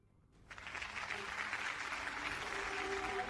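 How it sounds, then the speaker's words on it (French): Conference audience applauding after a speaker is welcomed to present an AI project, the clapping swelling in after a brief quiet start and holding as a steady, moderately distant wash of many hands. "Applaudissons-la!"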